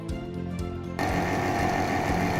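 A vacuum machine degasses silicone rubber for jewellery mold making, running as a steady mechanical hum and buzz that steps up louder and rougher partway through.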